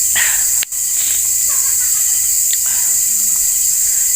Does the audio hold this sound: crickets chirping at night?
yes